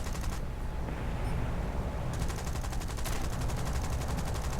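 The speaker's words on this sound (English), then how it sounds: "Now there are some light AA guns. I'll have a strafe of them on the way past." Machine guns of a Lancaster bomber strafing light anti-aircraft guns in a realistic-battle flight game, rattling as steady rapid fire over a constant engine roar, loud and continuous throughout.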